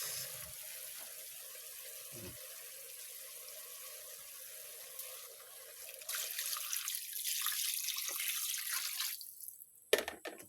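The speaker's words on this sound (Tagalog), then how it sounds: "Lagyan natin ng tubig yan." Water poured into a cooking pot while making chicken tinola in a rural kitchen, a trickling, splashing flow that starts faint and swells louder midway before stopping abruptly near the end, with no talk over it.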